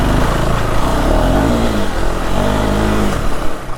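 A KTM off-road motorcycle revs hard with its rear wheel spinning in loose gravel and dirt, giving a loud, sustained engine roar that surges and wavers throughout.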